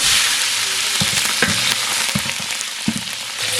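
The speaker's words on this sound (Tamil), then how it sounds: "பச்சை மிளகா நல்லா பொரிஞ்சிருச்சு" Green chilies fry in hot oil along with mustard seeds and curry leaves, giving a close, constant sizzle. A few soft knocks of stirring sound over it, and no voices are heard.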